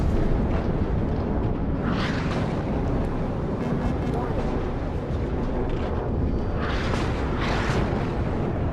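Game explosions and aircraft roar from a Thunderbolt attack in the military strategy game WARNO, dense loud rumbling blasts with swelling booms and surges throughout, a dull continuous barrage.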